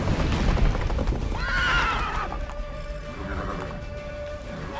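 A horse, Roach in The Witcher 3: Wild Hunt, whinnies loudly once over rumbling, noisy game action during the Battle of Kaer Morhen, then a softer whinny follows as the commotion fades.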